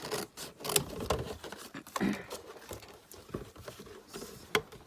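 Scissors cutting thick cardboard, producing close, uneven snips and scraping rasps with a few sharper clicks scattered through, heard on their own without speech.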